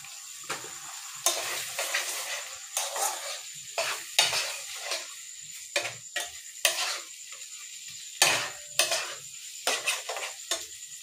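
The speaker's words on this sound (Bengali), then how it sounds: "এবার আলু আর পেঁয়াজ টমেটো ভেজে নিই।" Potatoes, onions and tomatoes stir-frying in oil in a wok: repeated scraping stirs over a steady sizzle, loud and close, with no talking.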